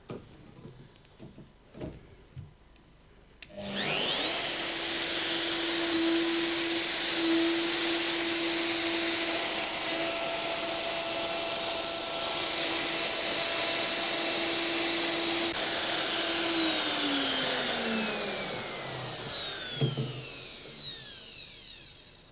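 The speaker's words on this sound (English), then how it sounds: "Having set the router to the correct depth, we can cut the groove." A woodworking router cutting a groove in wood, a high steady whine starting abruptly after a few soft knocks, running close and loud for about fourteen seconds before spinning down, with no talking.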